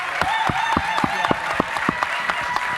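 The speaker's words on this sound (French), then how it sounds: "Applaudissez-la, s'il vous plaît. Un tonnerre d'applaudissements" Audience applause at a Cameroonian diaspora business gala in Paris, a steady mid-level patter of clapping with sharp individual claps standing out, while music plays underneath.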